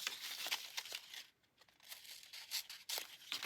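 Scored craft paper is cut with a paper trimmer or scissors while a frame layout is being made. The cutting produces soft, quiet crinkly snips and rustles in short bursts with a brief lull in the middle, and no one speaks.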